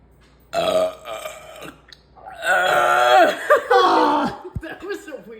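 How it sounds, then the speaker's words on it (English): Loud, drawn-out burps forced up after drinking Coke Zero, several strained belching bursts close to the microphone, mixed with laughter and chatter from people nearby. "One more burp attempt."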